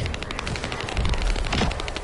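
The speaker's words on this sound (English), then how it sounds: "Yeah, I'll just keep shooting." Rapid, dense automatic gunfire from The First Descendant on PS5, played in co-op, rattling continuously for about two seconds with a heavy low thump under the crackling shots.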